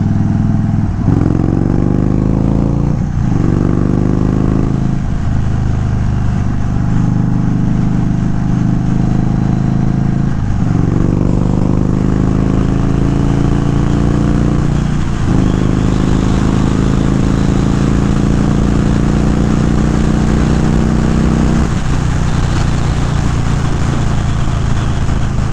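An Indian Chief Dark Horse motorcycle accelerates hard in sport mode, its engine climbing through several gear shifts with a loud, close, rumbling roar broken by short dips between gears.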